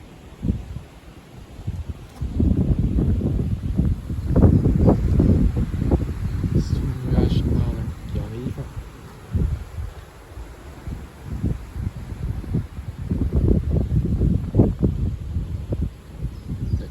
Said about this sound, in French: Le vent qui se met à souffler à 70 même.